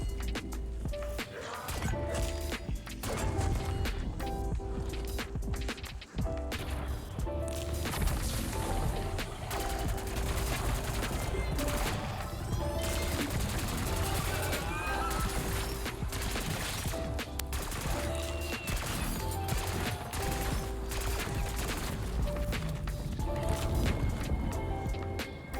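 Rapid bursts of gunfire from a Black Ops 6 Zombies match on The Tomb map, firing steadily over a dense, busy game soundscape with no talking.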